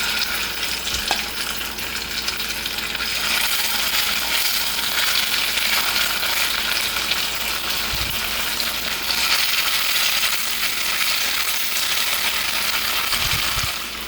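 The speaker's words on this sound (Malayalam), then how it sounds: "എണ്ണ ചൂടായി വരുമ്പോൾ ചിക്കൻ ഇട്ട് കൊടുക്കാം" Marinated chicken frying in hot sunflower oil makes a loud, dense, steady sizzle, with a few brief clinks and knocks along the way.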